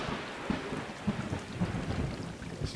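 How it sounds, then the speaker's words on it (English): Steady rain patters on surfaces during a thunderstorm in the video game Stray, with low rolling thunder rumbling underneath, continuous and moderately loud, no voices. "Yes, indeed, some thunder and lightning. A bit rainy."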